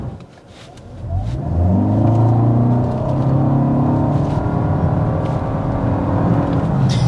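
A 2025 Toyota Camry XSE with all-wheel drive accelerates hard on flat ground, engine note climbing steadily from a quiet start into a loud, sustained rising drone with tire and road noise.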